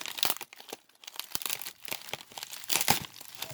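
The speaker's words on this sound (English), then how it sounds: "It's more cellophane." Cellophane wrapping crinkles and tears as a mailed package is opened, with irregular close crackling bursts that swell and fade over a few seconds, and no talk.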